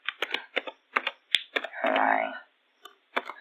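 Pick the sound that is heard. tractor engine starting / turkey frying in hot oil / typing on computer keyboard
typing on computer keyboard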